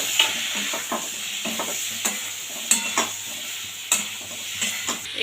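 Green chillies and boiled taro frying in a cooked-down spice paste, with close sizzling and a run of sharp scraping stirs and spoon knocks at irregular intervals throughout, no talking.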